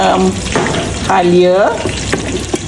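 Onions sauté in a wok for a chicken and jackfruit rendang, sizzling continuously while someone talks over the frying.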